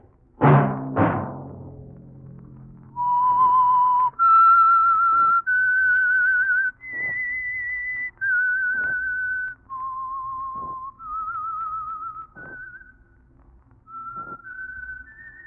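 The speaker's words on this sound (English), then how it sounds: "Let that whistle be your signal for the Signal Oil program, The Whistler" A lone whistler performs the theme tune of The Whistler, an old radio mystery program, in a clear sequence of sustained, sliding notes with brief gaps between them, loud and close with nothing else heard.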